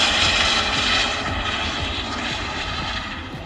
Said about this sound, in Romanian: Private-ul ăla care a aterizat acum a plecat de la Bacău cu 29 de minute și deja a aterizat.